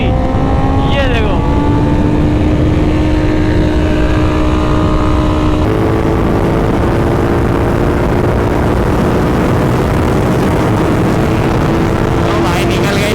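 A Honda CBR 650R and a Continental GT 650 accelerating hard in a drag race, engine notes climbing in pitch through the revs with a gear change midway, loud and close with heavy wind buffeting and voices underneath.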